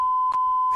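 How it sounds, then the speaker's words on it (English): A steady electronic tone runs throughout, with short bursts that break it into about three beeps, loud and close, with no voices. "What was that last three beeps right there?"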